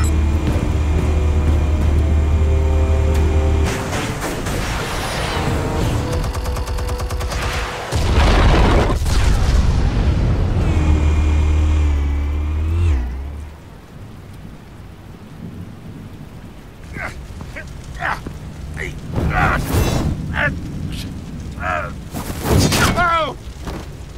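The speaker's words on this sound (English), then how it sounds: "Explosives armed. Fire when ready." Explosives detonate in the video game Batman: The Telltale Series with deep, heavy rumbling booms that roll and fade, followed by quieter crackling debris and brief voice-like sounds.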